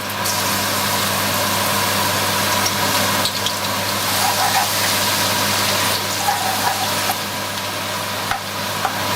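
Spoonful of garlic frying in hot oil in a wok, a continuous close sizzle with light stirring scrapes and a steady background hum, no talking.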